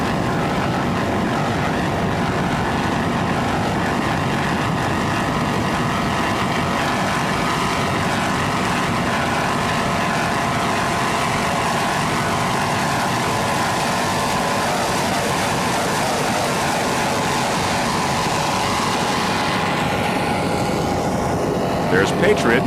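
Offshore powerboats at a 1993 grand prix racing on open water, among them a 35-foot white-hulled boat with three 285-horsepower Mercury outboards, producing a sustained droning engine roar that continues steadily throughout with a faint commentary voice beneath.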